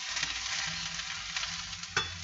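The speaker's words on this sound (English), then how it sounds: "I'm just going to stir it a little bit." Food is stirred in a sizzling frying pan on a home stove, giving a steady close frying hiss with soft scraping stirs and one sharper clatter near the end, and no voices.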